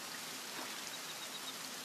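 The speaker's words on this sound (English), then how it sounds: "It's little raindrops." Raindrops fall steadily in the survival game The Forest, a dense soft patter with faint individual drips standing out, with no talking.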